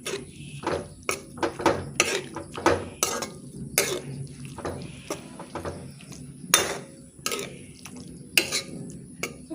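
Jackfruit seed curry is stirred in a pot, with a quick series of sharp metallic scrapes and clinks of a spoon against the pot, close and fairly loud, over a soft simmer, with no talking.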